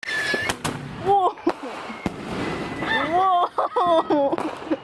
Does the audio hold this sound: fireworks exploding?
yes